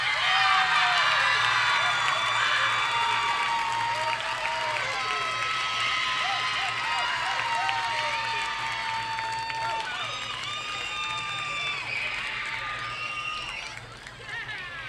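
Football crowd at a high school non-league game cheering and clapping after the homecoming queen is named, a sustained, fairly loud wash of applause, whoops and shouting voices that tapers slightly near the end.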